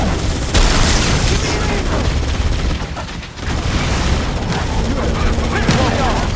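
Heavy gunfire from a Halo Campaign Evolved remake battle fills the scene, with dense, continuous bursts of automatic fire and booms that are loud and close, with shouted voices mixed in.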